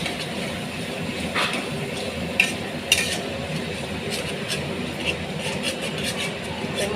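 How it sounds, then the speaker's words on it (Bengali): Green banana peel paste, ground with garlic and green chilli, stirred in hot mustard oil in a kadai: a steady close sizzle and scraping hiss with a couple of faint utensil clinks, and no voices. "তেলে একটু নাড়িয়ে চাড়িয়ে নিতে হবে।"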